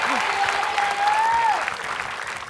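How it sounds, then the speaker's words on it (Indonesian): Studio audience on a television game show breaking into steady applause, dense clapping with cheering and a sustained whistle-like tone above it. "Yuk tepuk tangan dong"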